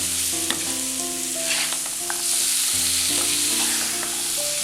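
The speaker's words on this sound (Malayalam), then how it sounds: "ഇനി ഇളക്കി കൊടുക്കാം." Bilimbi pickle sizzles loudly in a pan after salt is added and is stirred continuously, with the frying hiss holding steady and soft scraping strokes running through it. A tonal background hum is also present.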